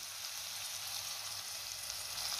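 Steady close sizzling of dhaba-style paneer gravy being mixed with cream in a pan over a low flame, an even frying hiss with no talk.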